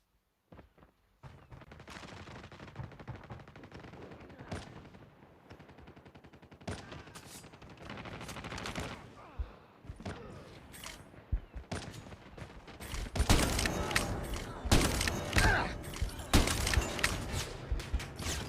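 DL Q33 Flame Lotus sniper rifle firing in Call of Duty Mobile, heard as loud, sharp gunshots with metallic effects over continuous game sound that grows denser and louder toward the end.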